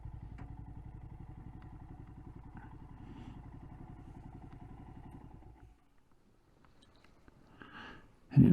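A motorcycle engine chugs steadily at idle for about six seconds, then cuts off, leaving near silence before a sudden loud thump at the end.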